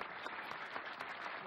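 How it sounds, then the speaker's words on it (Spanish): Studio audience on the Spanish TV game show El tiempo es oro applauds in a dense, continuous burst, brief and evenly sustained, heard up close with no voices. "merece un aplauso"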